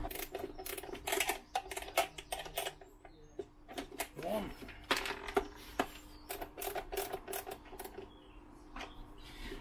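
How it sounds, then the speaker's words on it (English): A small quarter-inch ratchet spanner with a bit in the end, turning bolts while an alarm and immobiliser are fitted to a Peugeot J9 coffee van; quick, close clicking ratchet bursts, with someone talking quietly at times. "So all I've got there is my little ratchet spanner, quarter inch with a little bit in the end of it"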